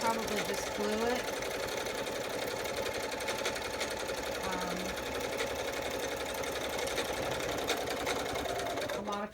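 A sewing machine runs steadily throughout, stitching the pages of a handmade journal, its continuous mechanical whir holding an even level from start to finish with a few brief tonal shifts and a voice faintly present underneath.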